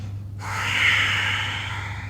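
One long, deep breath drawn in during a calm yoga session, a steady airy rush that swells and then eases, close to the listener, alone and without talk.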